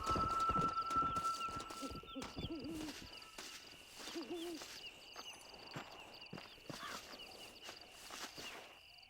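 Horse hooves clip-clop in the Western video game Red Dead Redemption, a series of uneven, moderately near footfalls against a steady ambient bed with a high whistling tone, with no talk.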